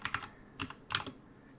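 Computer keyboard typing during a programming session: a few quick, quiet keystrokes in small clusters, close by, separated by brief pauses.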